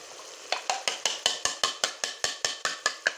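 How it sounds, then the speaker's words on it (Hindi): Eggs are whisked briskly in a bowl, a quick, even run of about fifteen sharp taps and clicks of utensil against the bowl, close and alone. "अब हम अंडों को इस तरह से फेंट के"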